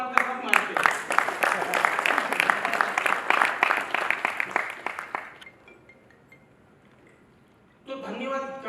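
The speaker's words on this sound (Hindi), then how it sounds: "2-3 ताली और मारते, सब मारते।" An audience at an education business awards event claps in a quick, loud burst with sharp individual claps, fading out after about five seconds; a brief quiet stretch follows before a voice starts speaking.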